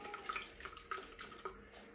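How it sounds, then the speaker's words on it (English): Tap water runs into an old coffee container while making a yeast starter for home brewing, a faint, steady splashing trickle with small irregular surges, heard alone without voices. "fill the container back up with water"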